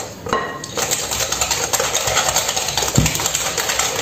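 Batter for a yogurt cake being mixed in a bowl, utensil scraping and clinking against the sides in a steady, busy rhythm of close, continuous clatter with a few sharper knocks.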